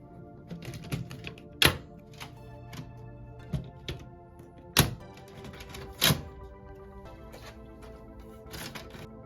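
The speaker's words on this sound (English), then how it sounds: "When you hear the click noise, it means" A TN227/TN223 toner cartridge being slid and pushed down into a Brother MFC-L3770CDW printer, giving a few sharp, close clicks and thunks spaced irregularly over quiet plastic handling.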